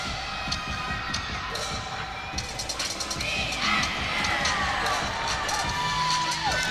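Steady crowd noise with scattered cheers and shouts at a gymnastics meet, a continuous murmur of many voices with brief louder whoops rising and falling throughout.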